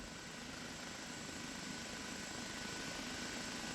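An OH-58 Kiowa helicopter in the DCS flight simulator hums with a steady, even turbine whine and rotor drone, faint and constant throughout with no talking.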